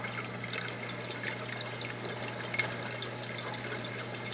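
Water rising and flowing through an aquarium Durso standpipe opened all the way, a steady close gurgling trickle with continuous splashing and a low hum running underneath.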